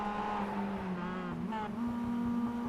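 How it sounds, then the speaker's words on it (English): A Mazda MX-5 in a sim racing game at Summit Point screams against its rev limiter, a steady high-pitched engine buzz with a stuttering pulse held for over a second before the pitch shifts slightly. "you heard it on the rev limiter for almost a second, if not longer"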